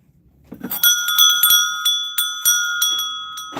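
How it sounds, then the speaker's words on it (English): A small metal bell rings repeatedly with bright, sustained tones, each shake adding a new clear chime that lingers and overlaps. "That's a neat bell."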